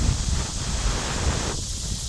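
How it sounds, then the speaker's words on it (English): Wind gusts steadily outdoors around a small flint-and-steel fire being coaxed into flame. It makes a constant, fairly loud rushing roar with no voices. "the wind's really helping a lot"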